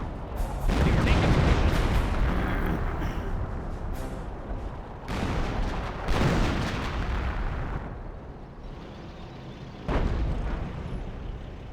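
Heavy artillery shells land in Company of Heroes, with Hummel self-propelled guns among the units. Loud, dense explosive barrages crash in several waves across the stretch, each burst rumbling on into the next with little pause.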